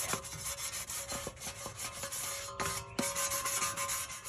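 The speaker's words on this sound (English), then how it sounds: "just come in here and scuff this with some sanding paper" Sandpaper scuffs a brake part on a 2012 Audi A3 TDI in quick rhythmic back-and-forth strokes, close and fairly quiet, a brief pause mid-way before the rubbing resumes.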